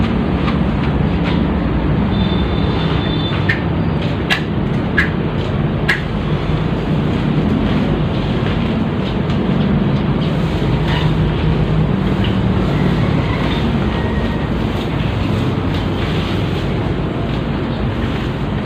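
Strong wind at a cemetery buffeting the microphone with a constant roar, over the wash of waves and water, with no voices.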